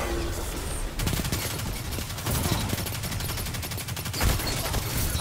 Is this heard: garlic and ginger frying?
no